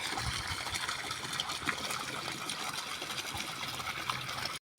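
Water runs steadily into a basin, a continuous rushing trickle at moderate level that stops abruptly just before the end.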